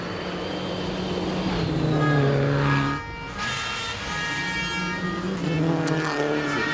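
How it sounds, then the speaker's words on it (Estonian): A Citroen DS3 rally car roars past on a gravel stage at Rally Estonia, its engine loud and sustained with rising and falling revs as it passes close by, no voices. "Siin läheb meie eest läbi auto number 38, kelleks on siis David Sultanjans ja Siim Oja, sõidavad siis nemad Citroen DS3-ega"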